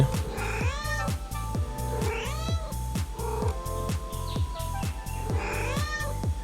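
A cat meows repeatedly in a steady rhythm, loud and close, each cry rising and falling, with rhythmic thumping beats underneath.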